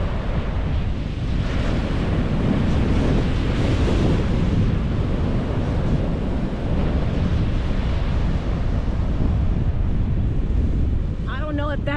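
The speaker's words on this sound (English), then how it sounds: "Look how violent these waves are." Violent ocean waves crashing on a Virginia beach, a roaring, continuous surf rumble thick with wind buffeting the microphone, loud and close, with a brief voice breaking through near the end.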